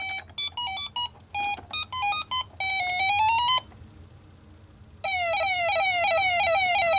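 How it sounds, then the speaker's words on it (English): Electronic warbling beeps from a 1980s mini tabletop Pac-Man or Q*Bert arcade machine: choppy stuttering tones, a short pause, then a sustained rising-falling siren-like wail, fairly quiet and close. "Sounds like an ambulance about to bust through your wall"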